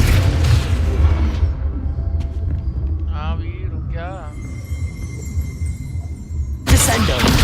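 A Confringo spell explosion in Hogwarts Legacy, a deep booming rumble that fills the opening seconds, then fades under brief voiced sounds before another loud burst hits near the end.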